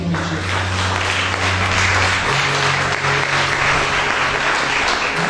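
A Baptist church congregation applauds during an evening service, loud sustained clapping from many people with a low tonal hum underneath that shifts partway through, no speech.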